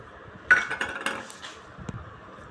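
A spoon clinks and scrapes against a bowl while stirring soaked moong dal with lemon juice and salt, in a quick cluster of bright metallic taps followed by one more clink a moment later.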